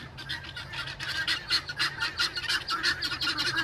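A flock of guinea fowl call in loud, rapid, raucous squawks and honks that overlap continuously at close range.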